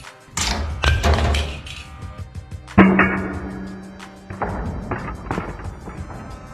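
An iPhone 13 Pro Max and a Pixel dropped onto their corners, a few sharp thuds and clattering impacts spaced apart with quiet between them.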